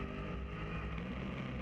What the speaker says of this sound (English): You can hear the engine just revving, but no drive.